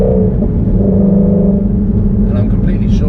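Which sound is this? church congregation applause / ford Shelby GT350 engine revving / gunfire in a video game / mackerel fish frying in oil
ford Shelby GT350 engine revving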